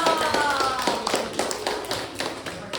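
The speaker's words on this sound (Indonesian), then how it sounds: "Tepuk tangan dulu dong." Hand clapping during a classroom presentation: a short run of sharp, evenly spaced claps, moderately faint, with a light murmur of voices.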